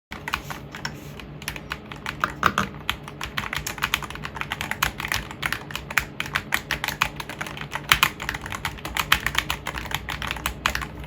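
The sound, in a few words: typing on Hall effect keyboard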